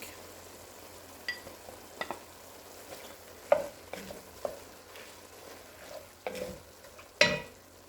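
Onions and garlic cooking in a pot for spicy classic chili, a faint low sizzle broken by scattered clinks and scrapes of a spoon against the pot.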